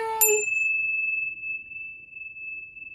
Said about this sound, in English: Beautiful bell for Roz.